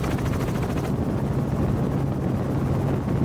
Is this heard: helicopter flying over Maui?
yes